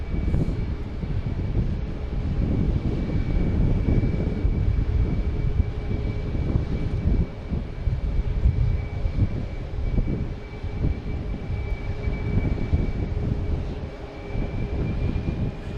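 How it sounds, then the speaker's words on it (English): A Delta airliner lands on runway 4 left at Boston Logan Airport, making a sustained, rumbling jet roar with a faint steady whine that lasts throughout, heard alone without talk. "Oh, landing 4 left. Wow. That was a Delta coming in from San Juan."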